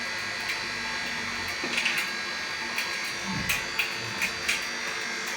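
Cotton candy machine running steadily, its continuous motor hum and buzz filling the clip with a few soft clicks and knocks on top; no talking.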